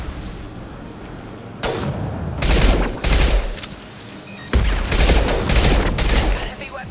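Heavy weapon fire in the video game Mass Effect 2 comes as dense, roaring bursts in two loud stretches, with a brief lull between them.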